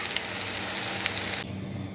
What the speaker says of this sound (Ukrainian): Обжарюємо картопляники з обох сторін до рум'яної скориночки.